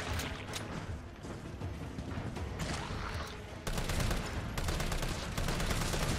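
Rapid bursts of gunfire in Resident Evil 3 Remake, dense and loud, shots stacking into a continuous volley that grows heavier partway through.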